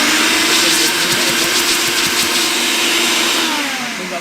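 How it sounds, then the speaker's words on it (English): A homemade vacuum rig blows and sucks debris out of an engine cylinder on a Crown Victoria during a tune-up. It makes a loud, steady, close roaring whoosh that holds for several seconds and eases slightly at the end. "I made a pretty fancy contraption here to be able to blow and suck down into the cylinder to get all the debris out."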